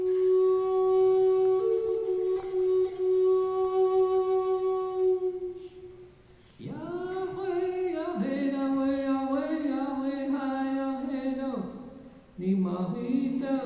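Native American flute song about the red bird, played as long sustained notes with a pause around the middle, then a brighter phrase of held and bending tones; clear and close with no talking.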